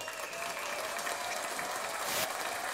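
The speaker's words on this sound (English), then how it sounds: "They're still clapping. They're still clapping." An applause sound effect plays from a soundboard button: a dense, steady crowd clapping that holds at an even level throughout, alone and fairly quiet.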